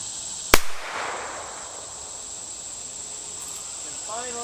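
A single sharp, loud gunshot cracks out from a short barrel firing segmented ammo, followed by a fading echo and then quiet background with a steady high insect-like hum.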